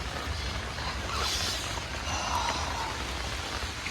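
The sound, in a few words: heavy rain in Indian rainforest while camping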